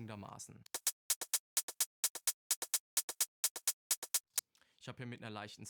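A crisp, bright techno hi-hat pattern of short, evenly spaced ticks with a slightly gritty, saturated and tone-modulated sound, played alone between bursts of talking at either end.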